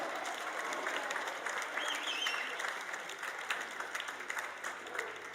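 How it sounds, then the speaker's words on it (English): Applause and cheering from a polo crowd at the Villages Polo Club after a match, a steady wash of many hands clapping at moderate distance, sustained without a break. "Let's give all the players one more round of applause."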